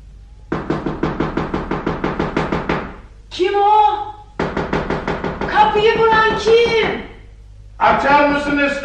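Sharp, rapid knocks rap on a door in a Turkish radio drama, two long even series broken up by urgent voices calling out, with speech continuing over and after the knocking.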